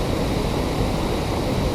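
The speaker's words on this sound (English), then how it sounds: "Right now we are at the top of the waterfalls." Loud, steady rush of water at the top of a small waterfall in Delaware Water Gap National Recreation Area in far eastern Pennsylvania, a broad continuous roar close by with no talking.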